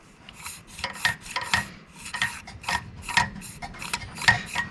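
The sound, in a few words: sanding Mercedes distributor parts with 2000 grit sandpaper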